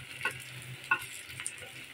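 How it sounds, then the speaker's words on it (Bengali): Dried chilies fry in a pan, giving a soft, low sizzle broken by a few faint stirring scrapes and clicks, with no one talking. "আর এখন শুকনো মরিচটা ভেজে নিচ্ছি।"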